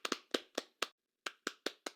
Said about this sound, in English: Oh, and look at that. The avatars clap.